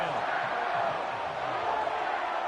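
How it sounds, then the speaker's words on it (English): Football stadium crowd roaring steadily ahead of a big third down in a Chiefs game, a dense continuous wash of cheering and voices with no break across the moment. "The crowd getting into it as we come up on a big 3rd down."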